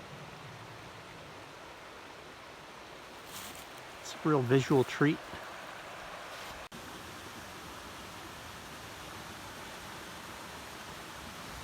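The Elk River flowing in winter, a steady broadband rush of water heard continuously, with a brief spoken remark in the middle.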